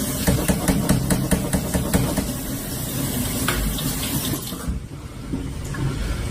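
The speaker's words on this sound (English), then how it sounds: "Turn on your cold water." Cold tap water running into a sink while canned black beans are rinsed in a strainer, a steady close splashing rush with brief clattering handling noises, easing off near the end.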